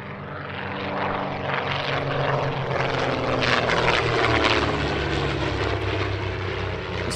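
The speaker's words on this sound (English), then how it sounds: "In the lead, the world's only flying de Havilland DH-88 Comet, built just down the road at Hatfield" A vintage de Havilland DH-88 Comet racer and a Percival Mew Gull racing plane fly together at an airshow, their propeller engines making a loud, steady, throbbing drone that swells slightly and holds throughout.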